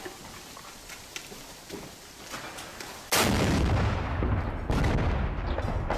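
Distant gunfire pops faintly, then a loud booming blast hits and rumbles on, followed by another heavy shot: artillery fire nearby during the battle for Donetsk airport in the war in Ukraine.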